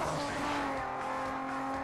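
A Nissan tuned street racer roars under nitro boost in Need for Speed Underground 2, a loud, steady engine drone with strong harmonic bands and a faint tire squeal, sustained without a break.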